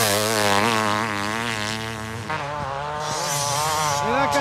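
A KTM 540 motocross bike races past on a track, its high, buzzing engine note rising and falling as it nears and fades, with other engine noise behind it and no talk.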